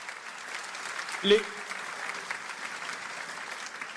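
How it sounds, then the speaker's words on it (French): A church congregation at a French-language sermon applauds together in a continuous, moderately loud patter, with one brief louder knock near the middle. "je voudrais que vous vous applaudissiez en mon nom"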